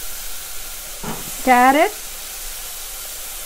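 Tomato, eggplant and carrot sauté in a pan with a steady soft sizzle and stirring, briefly louder in the middle, while a voice speaks over it.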